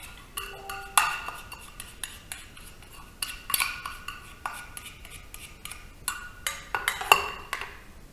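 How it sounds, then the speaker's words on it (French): Melted oil for a homemade deodorant being transferred into a small bowl, with light metal utensil clinks and scrapes against the bowls coming in scattered taps throughout, close and fairly quiet. "Je transfère mon huile dans mon petit bol."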